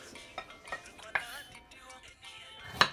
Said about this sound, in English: So she's dicing ginger and garlic